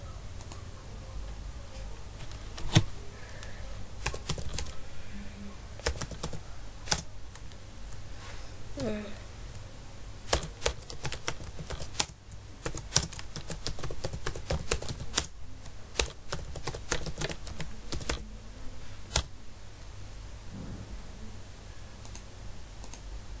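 Fingers type an answer on a computer keyboard in quick irregular bursts of soft clicks, close by, with pauses between runs and a person talking quietly over it.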